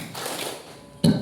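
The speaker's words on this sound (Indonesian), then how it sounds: "Tepuk 1 kali." A single collective clap from a school audience in a classroom clapping game, one sharp burst near the end after a quiet pause with faint murmuring.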